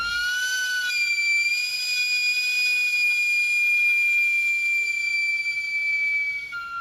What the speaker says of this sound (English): selling sweet potatoes with a whistle that squeals through the entire neighborhood